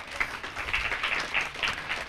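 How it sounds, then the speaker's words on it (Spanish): A youth conference audience claps for a young woman named Luz Esther: a modest, steady patter of applause with soft, irregular peaks, fairly distant and not very loud. "Un aplauso para Luz Esther."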